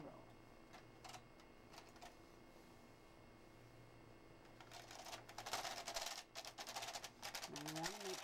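A knitting machine carriage runs across a row, giving a steady mechanical clatter with rapid clicks that builds louder toward the end, heard close and alone.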